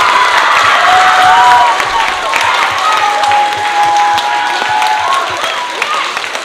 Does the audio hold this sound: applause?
yes